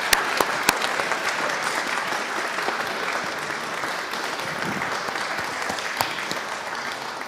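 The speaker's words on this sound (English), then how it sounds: "Let's give a round of applause." Steady audience applause fills the room after a talk on sketches of Richmond, a dense, even wash of clapping from many hands with a few sharper close claps, sustained throughout.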